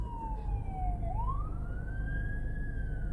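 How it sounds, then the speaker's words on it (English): An ambulance siren wails on a Las Vegas street at night, one clear sweeping tone that dips and then rises again, loud and close over steady traffic rumble. "Got a pair of ambulances, one coming at us, and the other one going that way."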